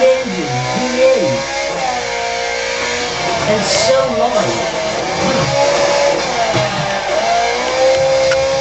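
A Ferrari 430 Scuderia with its 510-horsepower mid-mounted V8 revs and accelerates through repeated rising and falling engine notes, loud and close, while someone talks over it.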